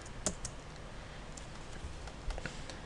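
Typing on a MacBook keyboard, a few scattered, faint key clicks spread sparsely over a quiet background with no voices.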